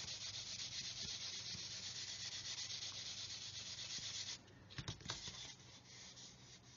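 Steady abrasive rubbing of a sanding sponge along a seam on a 1/144 scale plastic Saturn V model kit, quiet and continuous, with a few light taps near the end.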